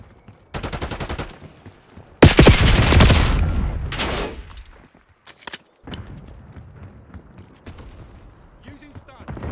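Heavy exchanges of gunfire in Call of Duty Black Ops 6: a sharp stuttering burst, then a loud sustained barrage with booms, followed by scattered shots and clanking mechanisms as a radio voice speaks.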